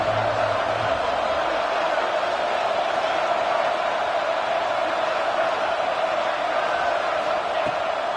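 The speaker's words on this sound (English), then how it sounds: "The Red Raider crowd rising to the occasion to help its defense on third down." A football stadium crowd at a Red Raider game roars steadily on third down to back the defense, a dense, unbroken wash of distant cheering and noise with a faint announcer's voice briefly at the start.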